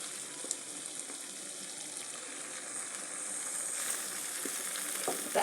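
Chunks of mustard greens tossed into meat frying in a pan for a Bengali dish make a steady, close sizzle that swells slightly in the second half, with faint stirring clatter and no voices.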